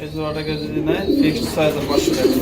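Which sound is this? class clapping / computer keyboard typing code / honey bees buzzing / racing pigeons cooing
racing pigeons cooing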